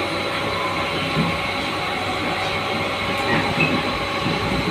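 A passenger train travelling between Mumbai stations near Wadala rumbles steadily on its rails, a constant loud interior roar with faint rhythmic wheel clatter throughout and no talk.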